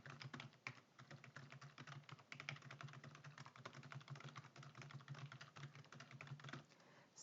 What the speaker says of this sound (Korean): 셀 안에서 줄바꿈 해줄 거니까 Alt 누른 채로 엔터 오른쪽으로 갈 거니까 탭 아래로 갈 거니까 엔터